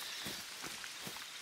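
Rain falls in a hunting video game as a steady, faint hiss of drops with no other clear sound.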